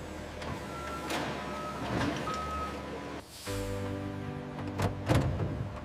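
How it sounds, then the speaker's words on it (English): At an Oreo cookie factory where pallets are loaded onto trucks, a truck gives intermittent reversing beeps over a constant mechanical hum and clatter, with a thud and a rattling sweep in the middle. "Pallets are loaded onto trucks for transportation to retail locations."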